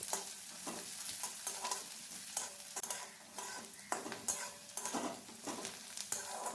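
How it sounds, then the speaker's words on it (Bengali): Potatoes and chopped onion with a bay leaf fry in a pan, a soft sizzle broken by regular, rhythmic scrapes and clinks of a utensil stirring them. "এখন পেঁয়াজটা আর আলুটা একসঙ্গে নাড়াচাড়া করে ভালো করে ভাজা ভাজা করে নিতে হবে"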